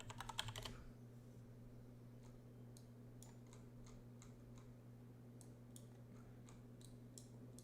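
Computer keyboard typing and clicking: a quick close burst of keystrokes at the start, then sparse, scattered taps and clicks over a steady low electrical hum.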